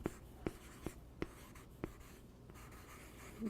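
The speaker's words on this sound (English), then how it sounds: "I'll write that right here" Handwriting, with a series of sharp pen taps and faint scratching strokes at an uneven pace, quiet and close with no voices.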